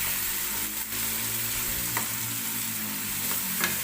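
Tomatoes, onion and capsicum frying in oil for pav bhaji give a steady close sizzle, with a few soft scrapes of stirring and no talking.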